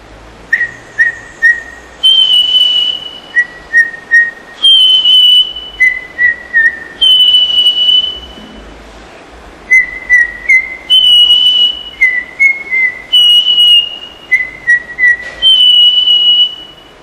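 A person whistles birdlike phrases in a bird-imitation contest: repeated short chirps and sustained high notes in bright, loud bursts with brief pauses, and no speech.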